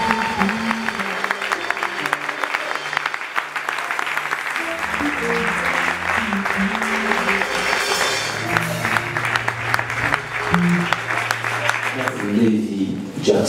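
An audience at a celebration rises and applauds: dense, sustained clapping and crowd noise throughout, loud and close, with low music tones running underneath and a voice speaking over it.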